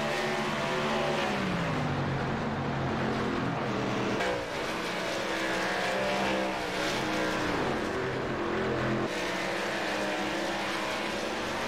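Race cars roaring continuously around a track during a broadcast race, engines loud and sustained with shifting pitch as cars pass, with no voices over them.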